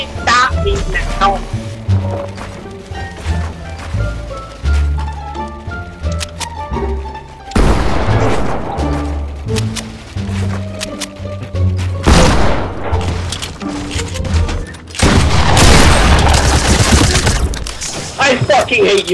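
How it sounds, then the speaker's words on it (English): Purple shotgun blasts in Fortnite, loud repeated booming shots mixed with game effects and an excited young voice shouting over the action. "I got the purple shotgun! Can't fucking stop me now!"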